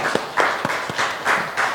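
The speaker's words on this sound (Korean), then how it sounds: "우리 살아계신 하나님께 영광의 박수 올려드리겠습니다" A church congregation applauds during a worship service, short bursts of clapping that come in bunches over under two seconds, fairly close and moderately loud.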